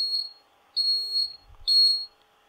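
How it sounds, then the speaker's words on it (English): An electronic buzzer sounds in three short, shrill tones separated by brief pauses, loud and close with no one speaking. "you can hear the bell, it is coming from this buzzer"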